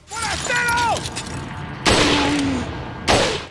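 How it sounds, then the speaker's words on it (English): Two sharp, heavy shots from a semi-auto sniper rifle in the original Resident Evil 4 crack out about a second apart, each with a ringing metallic tail, following a brief whooshing sweep at the start. "the semi-auto sniper rifle in the original Resident Evil 4 is one of the most satisfying guns in the series"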